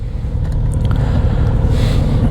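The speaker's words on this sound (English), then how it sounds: "car wants to come in just as we're leaving, causing chaos in the usual way" A car pulling into a campsite, its low engine rumble close by and steady over a couple of seconds with faint scraping.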